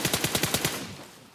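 Rapid automatic gunfire in the PUBG battle royale game rattles off about seven quick shots in an even burst, then a short decaying tail, loud and up close.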